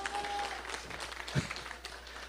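Short round of applause from a church congregation, scattered and fairly quiet clapping with a single louder thump partway through.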